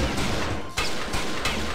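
Bursts of gunfire in the PC game XIII crack out in a couple of sharp, noisy volleys with short gaps between, loud and close.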